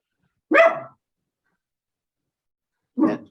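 Two short, gruff dog barks, spaced a couple of seconds apart, in otherwise quiet surroundings.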